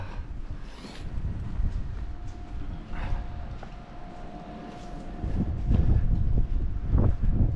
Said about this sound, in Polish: Jak nie zerwie tutaj parasolki. Ale wiatrzyko.